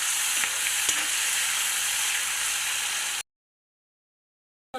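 Cauliflower and peas curry with tomatoes fries steadily in hot oil, a loud continuous sizzle with faint stirring clicks for about three seconds, then abrupt silence before a brief burst returns at the end.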